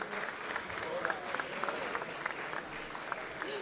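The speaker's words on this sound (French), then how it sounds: "On peut les applaudir très fort." An audience applauds a robotics team between rounds at the SwissEurobot 2017 competition: continuous clapping from a crowd at moderate distance, fairly quiet and steady, with faint voices mixed in.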